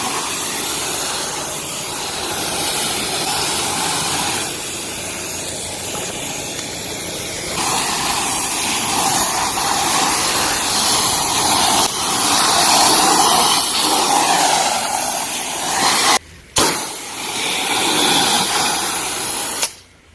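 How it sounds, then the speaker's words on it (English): A pressure washer pump runs steadily, its spray hissing loud and continuous as a vinyl fence is rinsed, with one brief cutoff near the end before the spray resumes. "Pressure washer pump, our machine. We're just using this to rinse now."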